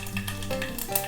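Mustard seeds and fenugreek crackle and hiss in heated oil while tempering for a South Indian kuzhambu, a short dense sizzle at moderate level with tonal background noise.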